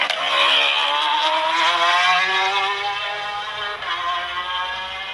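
Davy Todd's racing motorcycle on a hot lap of the Macau Guia Circuit: a loud, sustained high-revving engine whine that holds strong and then eases slightly, close and continuous, with no voices.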